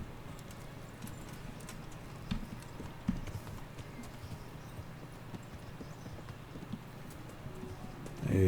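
Horse hooves clip-clop at a steady walking pace in Kingdom Come Deliverance, fairly quiet, with a few sharper hoof strikes over soft ambient background.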